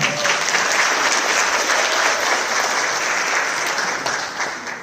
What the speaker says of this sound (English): So how about a big round of applause for Mr. Derek Kami.